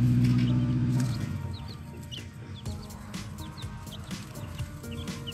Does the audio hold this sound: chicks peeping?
yes